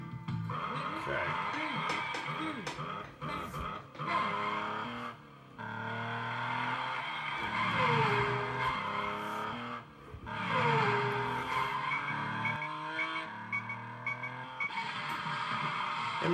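Engine of a Bugatti Type 59 in the Great 1000 Mile Rally arcade game, a buzzing electronic tone that rises and falls with repeated revving and skidding, while a voice talks over it throughout.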